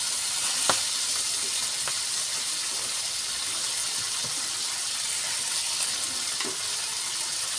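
Tofu sisig sizzles and fries in a hot pan with a steady hiss and crackle, occasional sharper pops and spits standing out, close and alone without talk.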